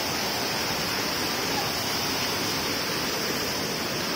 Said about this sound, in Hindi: हर जगह में झरना का पानी है इधर